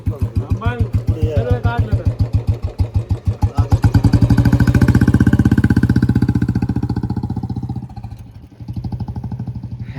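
A Royal Enfield Bullet motorcycle engine running loud and close, with its distinctive slow thumping beat that quickens and evens out as it revs, then settles back toward idle, with talk over it.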